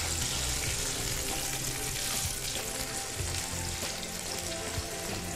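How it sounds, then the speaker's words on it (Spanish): Pumpkin-filled pastries fry in hot oil in a pan over lowered heat, giving a loud, dense, continuous sizzle and crackle with no voices. "Vamos friendo esta camada."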